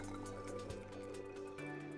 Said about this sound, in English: you can add the witch hazel and pour into a glass jar or bottle